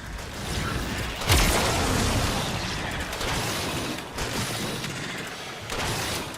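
A loud explosion booms in the sci-fi video game Warframe, followed by a rumbling wash of crashing, rattling debris and mechanical creaks that continues for several seconds.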